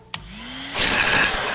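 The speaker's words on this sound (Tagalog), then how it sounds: "Nagpapapalit na talaga ang vacuum cleaner na to." A failing vacuum cleaner in a cartoon: a brief click and a rising whine, then a loud harsh roar that kicks in and holds steady to the end, with no talk.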